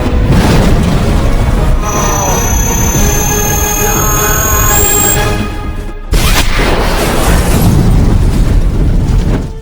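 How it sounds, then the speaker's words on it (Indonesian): Film explosion with a loud, sustained booming roar and rumbling debris, a high ringing tone layered over it, a brief cut near the middle, then the heavy rumble resumes. "ya, Johnson pun meledak tereliminasi dari film"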